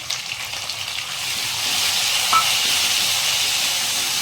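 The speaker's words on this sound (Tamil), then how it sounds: "அதுக்கப்புறம் தக்காளி வெங்காயம் அதெல்லாம் போட்டு ஃப்ரை பண்ணி எடுத்துக்கலாம்" Onions and tomatoes fry in a pan for a Chettinad chicken curry, giving a steady, loud hissing sizzle that swells after the first second and then holds, with no talking.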